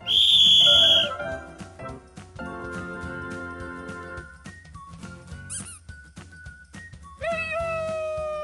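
A cartoonish whistle effect plays in short tones: a bright shrill blast, then several sliding and wavering whistles, squeaks and a rising slide whistle over light background music.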